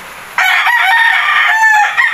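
A Maklin breed rooster crows once, loud and close, a single sustained call that begins abruptly and then trails off, with no talking over it.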